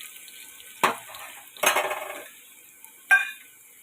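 Utensil scraping and knocking in a cooking pot on the stove, three short separate bursts of stirring clatter against a quiet background.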